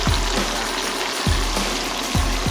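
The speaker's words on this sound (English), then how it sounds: "frying that around in the oil" Steady broadband sizzling of onions frying in hot oil, continuous and fairly loud, with a few low thumps from utensils.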